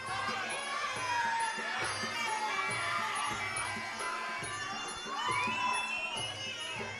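A loud crowd roars and cheers continuously at a women's kickboxing fight as rival gyms support their fighters, a steady wash of shouting and excited voices with occasional higher yells rising above.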